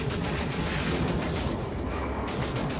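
Gunfire aimed at a turret in the Dust 514 shooter game, dense, loud, continuous rumbling bursts and blasts filling the whole moment with no pauses, no voices.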